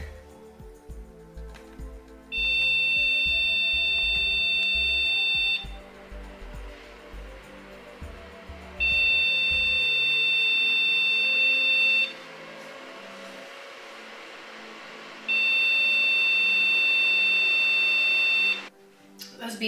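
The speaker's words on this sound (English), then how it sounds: "Those beeps are scaring me," A 2003 Sony Vaio all-in-one desktop computer gives three long, loud, piercing electronic beeps at power-on, evenly spaced several seconds apart, with faint fan hum and some talking between them.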